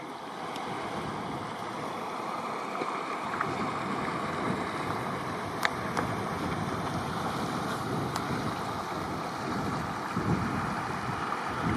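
A river rushes steadily beside a backcountry hiking trail in Banff's Front Ranges, giving a continuous broadband roar of flowing water with some wind, close and even throughout, with no voices.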